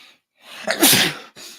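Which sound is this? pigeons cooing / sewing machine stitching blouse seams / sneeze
sneeze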